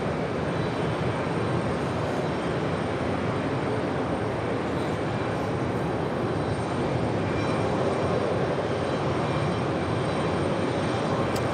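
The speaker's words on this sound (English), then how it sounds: "Avianca Flight 810 in this A320neo." An Avianca Airbus A320neo airliner arriving at JFK from Bogota, heard as a loud, steady engine roar that fills the whole stretch with no letup and no talking.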